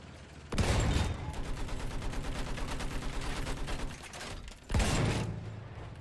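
Sustained automatic gunfire in the World War I shooter Battlefield 1, a rapid, regular stream of loud shots that drops out briefly and resumes with a heavier burst near the end.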